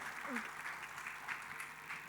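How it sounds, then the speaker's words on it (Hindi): Audience applause at the India's Got Talent Season 7 launch, a steady, moderately quiet wash of clapping that runs for about two seconds with faint voices mixed in. "तालियां"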